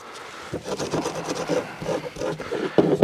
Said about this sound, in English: To just kind of sand it up a little bit, making sure there's no high rough spots